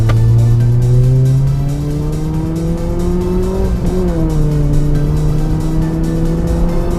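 A Honda Jazz GD3 with VTEC pulls hard in first gear in manual mode, its engine note loud and close as the revs climb steadily, dip briefly, then climb again.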